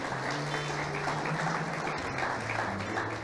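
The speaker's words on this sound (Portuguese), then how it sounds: "Uma salva de palmas para os nossos visitantes." Church congregation applauding visitors during a celebration service, a steady wash of many hands clapping that fills the room, with sustained organ or keyboard tones underneath.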